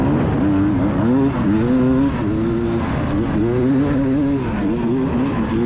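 Beta 300 RR two-stroke dirt bike engine droning and revving steadily during a hare scramble ride through the woods at Wolf Rock, close and loud with rising and falling pitch throughout.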